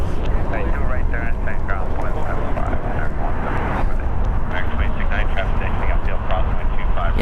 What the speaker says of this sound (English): this is Asiana Airlines Flight 202 coming in from Seoul.